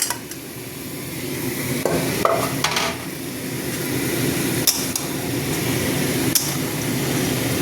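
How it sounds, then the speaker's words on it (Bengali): Mutton sautéing and being stirred in a pan for a home lunch, a steady close sizzle running throughout with occasional sharp clicks and scrapes of a spoon against the metal. "এবারে মাংস দিয়ে একটু কষাবো।"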